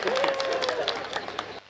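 An audience at a Hindi kavi sammelan claps in a brief burst of applause, with a voice sounding over the dense patter before it cuts off abruptly.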